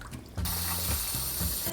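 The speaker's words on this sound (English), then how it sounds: "I want you to add some cold water and rinse the beans like 2-3 times." Cold tap water runs into a bowl of soaked beans being rinsed in a kitchen, a loud continuous gush and splash after a brief quieter start, with no talk.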